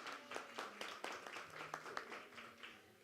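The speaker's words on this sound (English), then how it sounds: "Yes, please clap it up." Faint, scattered applause from an audience at a minor football league foundation awards gala and dinner, a quick patter of distant hand claps that stays sparse and quiet.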